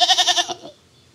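A young goat gives one quavering bleat, close and fairly loud, with a rapid wobbling tremolo that breaks off abruptly and fades into quiet.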